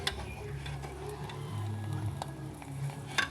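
Sirih cina greens frying and being stirred in a pan, a low steady sizzle with occasional sharp scrapes and clicks of a utensil against the pan, fairly quiet and alone.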